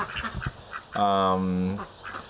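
Ducks quack loudly and harshly in a long, raspy burst close by, with a person talking before and after the calls.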